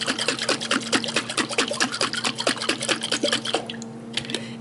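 Water splashes and sloshes rapidly inside a jar being rinsed, a dense run of close, bright drips and gurgles that thins out toward the end.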